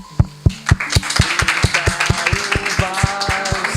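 Audience at a Portuguese-language religious talk gives a round of applause, with individual claps starting sparse and loud and quickly thickening into a dense, steady patter of many hands over almost four seconds.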